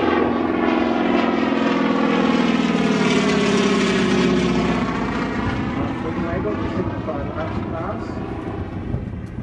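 A loud RAAF Winjeel propeller trainer aircraft drones past nearby during a flying display, its engine pitch sweeping downward as it passes, with a voice faintly underneath.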